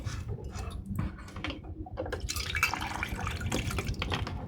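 Grated raw potato is squeezed and rinsed by hand in a bowl of clean water, with steady splashing, dripping and sloshing throughout, no voices.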